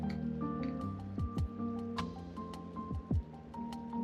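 A wet brush works water into Derwent Inktense paint, giving soft wet squishes and dabs with a few brief drips, all close and quiet, with no talking.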